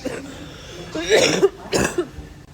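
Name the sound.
coughing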